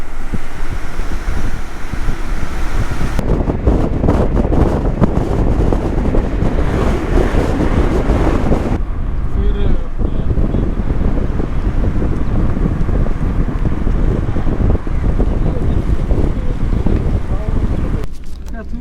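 Strong wind roars against the microphone while river water crashes against the gates of the Jinnah Barrage, a loud, continuous, rushing wash that drops briefly in intensity midway and then surges back, with no clear voices.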